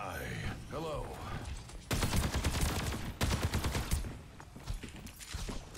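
Rapid bursts of Soldier 76 rifle fire from the Overwatch video game rattle in quick clusters, loud and close, with a player's voice heard briefly near the start.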